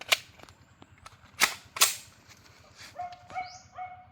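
A cheap gun fires through a chronograph, giving three sharp cracking reports at close range. Faint barking and bird calls sit in the background, and an electronic beep follows.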